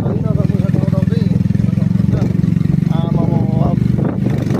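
Motorcycles on a risky mountain road in Khotang, Nepal, produce a steady, low engine rumble with a continuous droning throb, close and loud, under someone talking.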